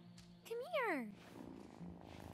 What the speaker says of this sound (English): It's actually purring.